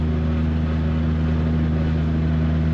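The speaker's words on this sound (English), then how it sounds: "Oh, this has an exhaust." A 700hp 4.2L turbocharged Trailblazer cruises with a steady, droning exhaust note at constant load, loud and close from inside the cabin, with no voices over it.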